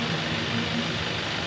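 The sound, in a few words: Toyota Innova engine running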